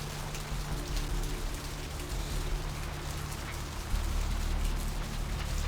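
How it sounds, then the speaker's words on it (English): Steady rain pours down in a game world in Vampire: The Masquerade – Bloodlines, a dense unbroken hiss over a low hum, holding at an even level throughout with a slight swell near the end. "I thought everyone ran undercover during the rain"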